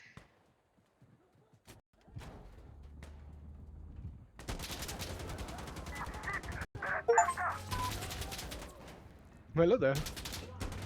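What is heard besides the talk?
gunfire from a mounted gun in the video game Insurgency Sandstorm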